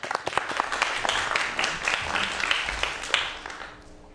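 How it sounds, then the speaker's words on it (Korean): A lecture audience applauds for a few seconds, scattered claps swelling briefly and then fading out. "자, 박수로 좀 청해 보도록 하겠습니다"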